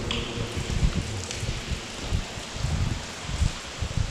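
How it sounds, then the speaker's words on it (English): Scattered water drips and patters echo in an Oxford tunnel, irregular and fairly close, over a steady low background rumble. "So all you can hear in here is water dripping everywhere."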